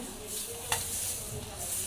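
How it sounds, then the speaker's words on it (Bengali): A chapati fries in a hot pan with a steady, quiet sizzling hiss and one brief scrape partway through. "ম্যাডাম চাপটি ভাজা অলরেডি শুরু করে দিয়েছে"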